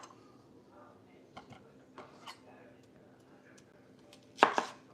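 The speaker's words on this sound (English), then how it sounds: "Now when you're dicing this right here" Knife dicing vegetables on a cutting board while making chicken tortilla soup: soft scattered taps, then a louder double chop near the end, close and otherwise quiet.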